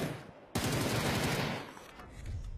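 Loud bursts of gunfire and an explosion from a PUBG match, a sharp blast arriving after a brief quieter lead-in, followed by sustained dense firing that tapers off.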